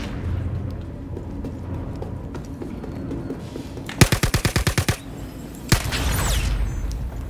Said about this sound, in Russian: Опять один выстрел.